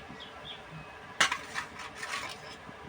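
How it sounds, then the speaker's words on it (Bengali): Fried rohu-type pona fish lifted from a pan with a metal spatula: one sharp metallic scrape and clink, then a few softer scraping touches against the pan, close and alone in a quiet kitchen. "মাছ ভাজা আমি তুলে দিচ্ছি।"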